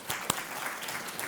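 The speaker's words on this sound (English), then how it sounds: "Round of applause." A brief wash of steady audience applause welcomes chef Sean Sherman onto a stage at a food summit, filling the room with dense, even clapping for just over a second.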